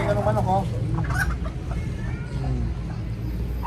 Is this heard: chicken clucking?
yes